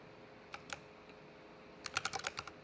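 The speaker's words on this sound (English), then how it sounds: "I keep pressing wrong keys." Fingers tap on a computer keyboard, two isolated keystrokes followed by a quick burst of several clicks, close and fairly quiet with no talking.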